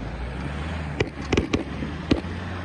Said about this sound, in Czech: Teď vím, že to budou petardy.